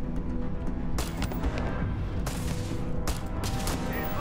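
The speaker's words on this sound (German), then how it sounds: "Ich weiß nicht, was da explodiert ist" Rapid bursts of gunfire in the video game Starfield crackle continuously, with a few louder booming blasts punching through the dense, steady barrage.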